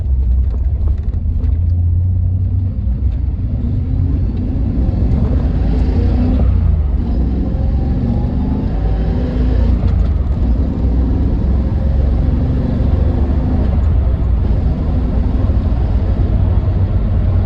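A 1989 third-generation Camaro engine with a dual-plane intake and an Edelbrock 600 carburetor, replacing the old TBI, runs at a steady idle: a close, deep, continuous rumble that holds even throughout.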